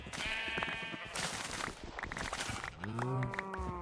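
Cows in a survival video game moo and low one after another, several overlapping bovine calls with a long drawn-out moo at the end, loud and near with no talking.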